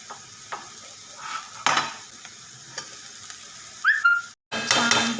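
Roasted bitter gourd pieces are tipped into a pan and stirred, giving a soft sizzle under scattered spoon scrapes and clinks against the metal, then a brief pause before a louder burst of frying near the end.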